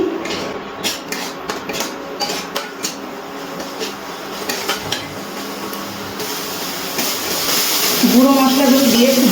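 Shrimp masala being stirred and fried in a pan with a little added water, with repeated scraping and clinks of a utensil against the pan and a rising sizzle toward the end, close and fairly loud.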